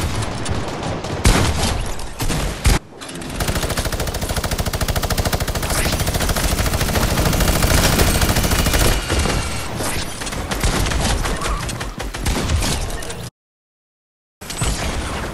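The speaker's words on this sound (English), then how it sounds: "Oh, we're getting shot at." Gunfire in the video game Fortnite: heavy, rapid automatic shooting rattles almost continuously and loud for many seconds, broken by a brief pause and a short silent gap near the end.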